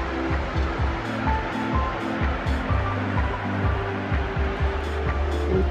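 A waterfall at Lassen Volcanic National Park pours into green water, giving a steady, loud rush of falling and flowing water with low rumbling churn throughout and no voices.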